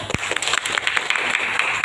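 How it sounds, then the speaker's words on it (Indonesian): An audience at a business seminar in Banyuwangi breaks into dense, steady applause, a loud wash of many hands clapping at once. "Boleh tepuk tangan."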